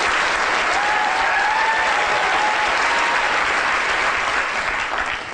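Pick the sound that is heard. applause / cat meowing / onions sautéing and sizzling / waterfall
applause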